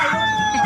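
A native chicken crows at a pet market, a short, loud, steady-pitched call heard alone and up close.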